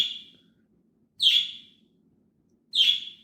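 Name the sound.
pet birds chirping loudly during a podcast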